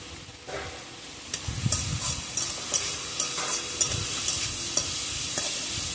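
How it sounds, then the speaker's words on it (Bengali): Onions fry in a pan for chicken biryani under a constant close sizzle, with repeated scraping stirs of a spoon adding rhythmic bumps through the last several seconds. "পেঁয়াজটা খুব সুন্দরভাবে ভাজা হবে।"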